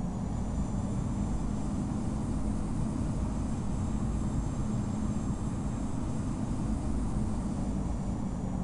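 A Boeing 777-300 airliner in the flight game Infinite Flight takes off, heard as a steady, loud engine roar with broad rumbling noise that holds constant throughout, no voices.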